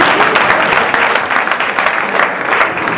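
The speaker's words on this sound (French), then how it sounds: "Applaudissez pour moi là-bas." Audience applause at a university conference, a loud, dense burst of many hands clapping close up that carries on steadily for a few seconds.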